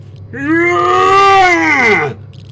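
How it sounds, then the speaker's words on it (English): A man wearing a mask lets out a single loud, sustained yell lasting about two seconds, close and alone, rising slightly before dropping off. "He heard the man yell under his mask"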